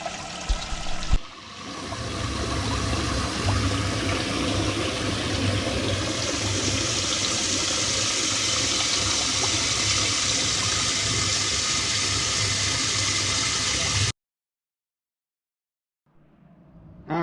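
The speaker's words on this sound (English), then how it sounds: "I got a new one over out by the driveway that's filling up with water right now" Water gushes steadily from a hose into a chest freezer converted into a bait tank, a loud, constant splashing rush that stops abruptly, leaving silence before a brief noise at the end.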